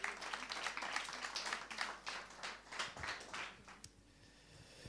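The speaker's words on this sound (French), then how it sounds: "qu'on peut applaudir aussi, s'il vous plaît." Faint audience applause welcoming a researcher at an environment-themed evening event, steady dense clapping from a crowd that fades out toward the end.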